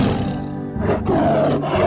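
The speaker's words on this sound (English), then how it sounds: "Tiger." A tiger gives a loud, close roar, a long rough growling bellow that swells, dips briefly and surges again, heard alone without talk.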